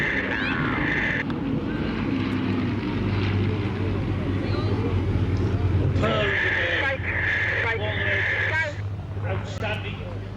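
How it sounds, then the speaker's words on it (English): Two Merlin-engined warbirds, a Spitfire and a Hurricane, pass overhead in formation at an air display, a steady distant engine drone running beneath continuous commentary over a loudspeaker. "Here you have two Merlins in formation."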